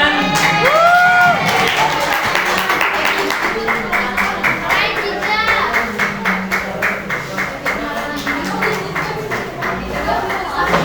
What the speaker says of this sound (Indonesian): silakan kelompok 3 beri tepuk tangan untuk kelompok 9